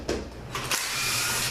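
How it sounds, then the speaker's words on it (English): A ratchet clicks and whirs while backing bolts out during a Honda P36A engine teardown, a short burst of mechanical ratcheting close to the microphone. "I'm going to take these 10 bolts out"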